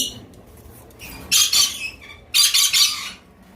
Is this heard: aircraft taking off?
no